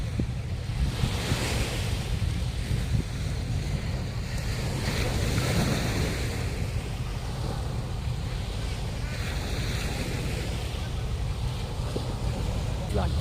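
Ocean surf rolls onto the white-sand shore at Alona Beach, Panglao Island, Bohol, a steady wash of waves with heavy wind buffeting the microphone and faint voices mixed in.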